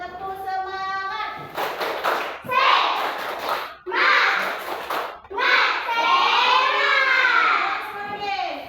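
A class of children does a rhythmic clapping chant together, bursts of patterned hand claps alternating with shouted group chanting, loud and close, with brief gaps between phrases and an adult voice leading at the start.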